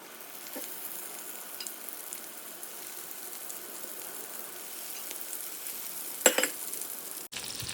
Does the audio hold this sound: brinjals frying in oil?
yes